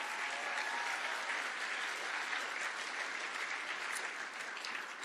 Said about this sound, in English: It is a round of applause for life.